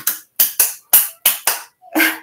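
Crisp finger snaps, seven sharp pops in an uneven rhythm over about two seconds, close and loud with silence between, the last one softer and longer.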